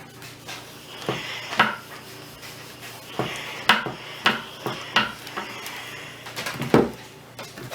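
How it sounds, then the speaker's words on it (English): An iron pressing and sliding over a fabric sleeve on an ironing board, with a run of soft thumps and knocks at uneven intervals over a steady low hum, close and moderately loud. "I fit half this arm onto the ironing board just so that I can iron it nice and flat"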